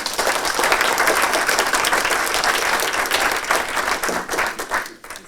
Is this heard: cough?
no